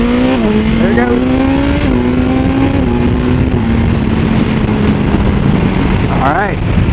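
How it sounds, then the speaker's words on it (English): A BMW S1000XR motorcycle accelerating hard, its engine note climbing and then dropping sharply at each quickshifter gear change from first into second and beyond. Loud and close, with the high-pitched wail rising in steps as it pulls away. "we'll do a couple of hard gear changes. So listen to 1st and the 2nd."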